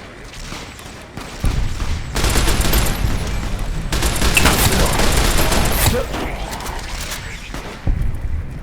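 Bursts of heavy gunfire in the video game Fallout New Vegas, several loud rapid volleys with brief lulls between them, with some faint voice in the background.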